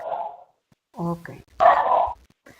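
A pet dog barks in a few short, sharp yaps with brief gaps between them, fairly close and moderately loud, in an otherwise quiet room during an online class.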